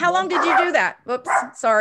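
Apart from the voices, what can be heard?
dog barking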